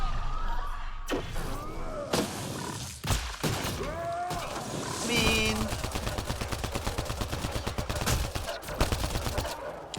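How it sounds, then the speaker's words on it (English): Sustained rapid gunfire from a firefight in Mass Effect Andromeda, with a few heavy single shots and slams early, then a dense, loud fusillade of automatic fire rattling continuously. "Seriously, when someone's shooting, you don't jump in front of the gun."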